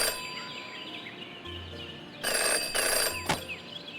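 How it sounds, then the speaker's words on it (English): A telephone rings in the Jenny LeClue video game, a bright electronic trill in two bursts with a gap between them, clear and close over quiet background ambience. "In her short time as a detective, Jenny had learned never to ignore a ringing phone."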